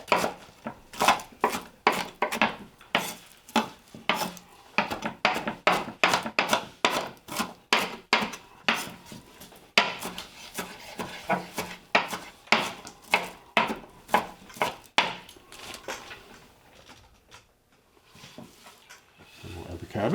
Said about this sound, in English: We're just going to do a rough chop this way, because again, we're going to chop very small